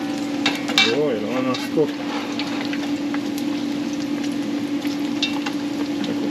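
Chicken wings frying in hot oil, a steady close sizzle with a constant hum underneath, while someone briefly speaks early on.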